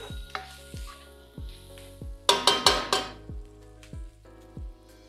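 Pork belly (liempo) frying in hot oil, a steady sizzle under a run of regular low thuds and a brief cluster of louder crackling pops partway through.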